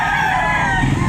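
Chickens and roosters at a Saturday poultry market in Lipa, Batangas, with a dense, steady cluck and crowing texture filling a short stretch, close and loud, with no talk over it.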